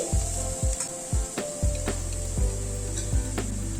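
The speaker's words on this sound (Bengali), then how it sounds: "গুঁড়ো মশলাটা দিয়ে এবার সব পেঁয়াজ, আদা, রসুনের সাথে একটুখানি নাড়াচাড়া করে নিচ্ছি" A spoon scrapes and stirs ground chili powder and spices with onion, ginger and garlic in a hot pan, repeated knocks and scrapes over a steady sizzle of frying.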